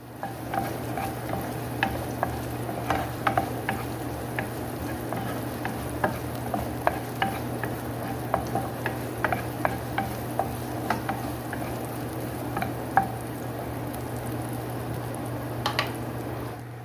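Shrimp paste (bagoong alamang) frying in a pan, with frequent light scrapes and taps of a utensil stirring it over a steady low sizzle and a constant background hum.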